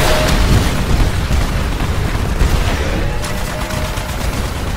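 Heavy gunfire and explosions from a Titanfall match as an automated turret brings down an enemy Titan: a loud, dense barrage of bursts and booms with no pause.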